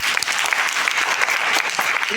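An audience at a sales seminar bursts into vigorous applause, many sharp individual claps blending into a loud, close, continuous burst that keeps steady energy throughout.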